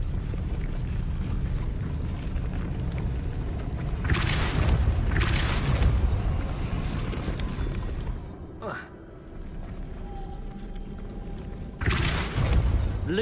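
Spell blasts in a Harry Potter video game sound as several sudden whooshing bursts over a constant low windy rumble, with a few sharper accents near the end.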